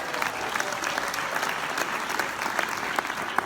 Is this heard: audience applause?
yes